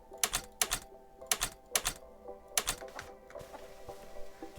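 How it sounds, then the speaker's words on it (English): Clicking in Minecraft with an enhanced audio resource pack: a quick series of about seven crisp, sharp clicks in small bursts, followed by fainter ticking, with no talk. "I have added enhanced audio and enhanced audio ambience. They both, you can even hear it when I'm clicking like this."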